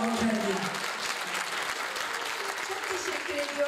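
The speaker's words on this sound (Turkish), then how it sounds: "Alkışlamanızı rica ediyorum hanımefendi" Audience applause at a choir concert, sustained broad clapping at fairly even loudness with scattered voices mixed in.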